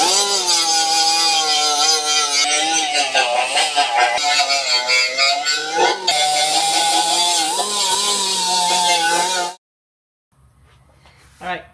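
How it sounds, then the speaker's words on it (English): A grinding disc works on a motorcycle oil tank from an FXR, a loud continuous abrasive whine with wavering pitch that runs for about nine seconds and then cuts off abruptly to near silence. "let me hit this with with a disc, and then we'll go from there"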